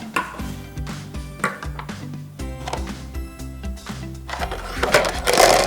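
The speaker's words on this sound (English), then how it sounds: "Tip from the red pot into the blue pot." Plastic toy pieces tipped from a red toy pot into a blue one, a series of hollow clattering knocks and rattles spread out over several seconds and swelling into a louder jumble at the end.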